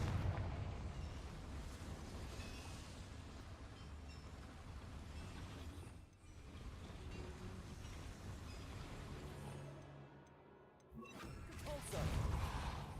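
Confringo fire spell explosions in Hogwarts Legacy inside a small mine, heard as a steady loud roaring blast rumble with bursts and crashes, a brief dip partway through, and swelling again at the end.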